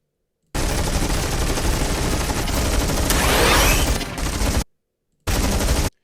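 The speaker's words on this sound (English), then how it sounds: "the firing rate of the sentry turrets is pretty fast" Sentry turrets in Stormgate fire rapidly in a loud, sustained burst of automatic gunfire lasting about four seconds, followed by a short silence and then a second brief burst.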